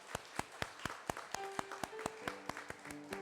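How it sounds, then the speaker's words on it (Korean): Congregation clapping in church at the close of a Korean Presbyterian praise service, a run of sharp claps in a steady rhythm with sustained organ or keyboard tones entering underneath, moderately quiet. "영광의 박수를 주께 돌려드리겠습니다."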